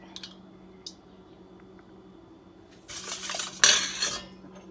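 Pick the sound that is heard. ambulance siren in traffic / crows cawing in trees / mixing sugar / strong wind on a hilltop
mixing sugar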